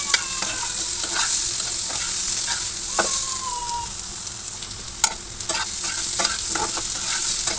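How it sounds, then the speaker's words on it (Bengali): Jackfruit seeds fry with onion in hot oil, giving a steady close sizzle broken by scraping stirs of the spatula against the pan. "এখন পেঁয়াজের সাথে এটাকে চালছি"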